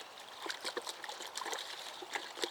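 Baking powder solution being stirred with a garden trowel, giving faint, quiet liquid swishes and small trickling splashes in a soft irregular rhythm.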